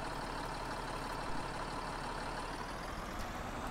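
A tractor drives in the video game Farming Simulator 19, its steady engine drone and rumble holding without a break throughout. The engine sounds faint and constant, with no talking.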